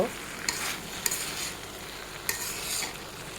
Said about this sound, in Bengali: এখন আমি ভাতগুলো দিয়ে এগুলা ভালো করে মিক্স করে নিব